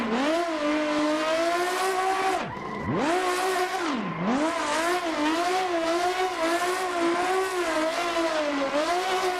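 A drift car in Assetto Corsa screams at high revs, its engine note swinging up and down. Around the middle the revs dip sharply twice before it climbs back to a sustained loud wail with tires squealing.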